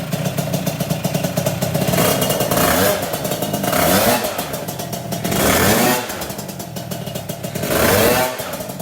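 A Yamaha Mio automatic scooter engine revs up loudly and repeatedly close by, rising and falling in three or four strong surges over a steady idle, with no talking.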